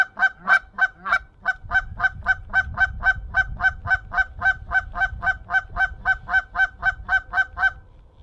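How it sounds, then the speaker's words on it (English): Canada geese on a hunt give a long, steady run of loud, nasal honks, about three calls per second, repeated evenly and close by over a low rumble of background noise. "We got some big old honkers."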